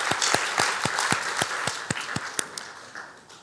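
Church congregation clapping at a Sunday service, a short run of distinct, fairly close claps at a steady rhythm that thins and fades over a few seconds.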